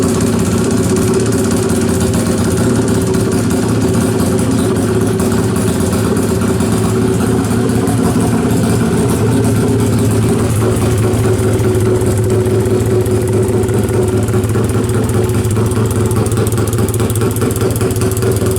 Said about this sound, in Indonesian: kita mau lihat proses cara ngidupin motor FFA dari Mas Andis Dos Muffler